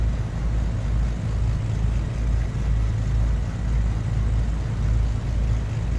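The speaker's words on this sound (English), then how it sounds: "let's go ahead and stow that tablet up and just listen to that engine idle" The engines of a Black Square Duke twin in a flight simulator idle with a steady, close, low throbbing drone that pulses evenly throughout, with no talking.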